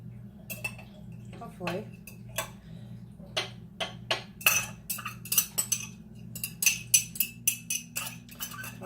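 A utensil tapping and scraping around a ceramic ramekin to loosen a cinnamon crumb cake, a quick string of sharp clinks and knocks growing busier, with a low steady hum underneath and a brief spoken word.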